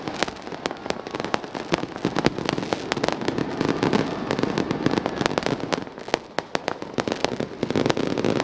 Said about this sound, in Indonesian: Pertunjukan cahaya dari 500 drone dan pesta kembang api terbesar dihadirkan di kawasan